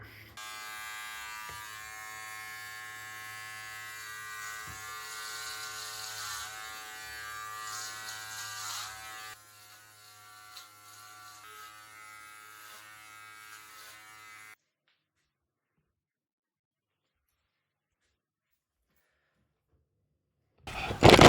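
Electric clippers buzz steadily while shaving hair off a head, a close continuous whine that shifts in tone as they move, then falls quiet for several seconds before a brief loud burst at the end.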